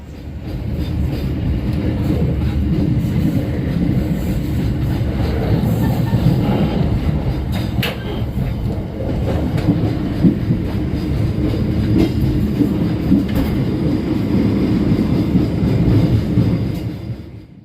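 A local economy passenger train departing Benowo station on the Surabaya–Cepu line in Indonesia rumbles steadily, heard from inside a carriage, with low rolling noise and faint rhythmic clatter of wheels on track throughout.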